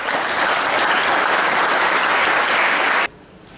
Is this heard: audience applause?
yes